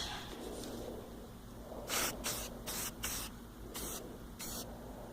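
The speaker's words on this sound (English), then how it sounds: "coating number 2 starts" Spray paint goes onto a trailer in a series of short hissing bursts, about six close, fairly loud sprays with brief pauses between, over a quiet background.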